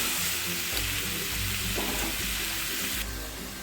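Crab masala sizzles steadily as it is sautéed in a pan, a bright, close hiss with soft scraping stirs, fading slightly toward the end.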